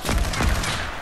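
A sniper shot in a shooter video game: a short, loud burst of gunfire filling a single second, with a heavy low thump.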